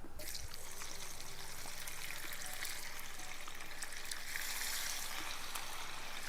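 Cooking oil pours into a pan for frying sardines, a steady liquid trickle and stream that runs without a break and stays fairly quiet throughout.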